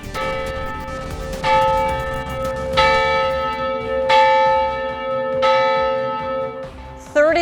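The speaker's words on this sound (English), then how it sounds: "34 bells ringing" Church bells ring out in slow, evenly spaced strokes, each clang leaving a long, resonant hum hanging in the air.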